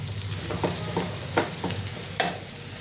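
Chicken patty filling with chopped coriander being stirred in a hot pan, a close steady sizzle marked by a few distinct spatula scrapes at uneven intervals.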